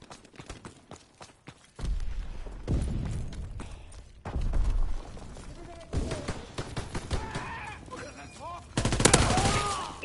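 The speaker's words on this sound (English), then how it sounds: "Oh, shotgun." Shotgun blasts in a video game crack out in sharp, separated reports, with one heavy booming shot and a later burst of louder chaos, under intermittent voices and game noise.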